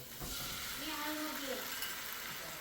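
Eggs for bhurji fry in a pan on a gas stove, giving a soft, steady sizzle with faint indistinct voices underneath.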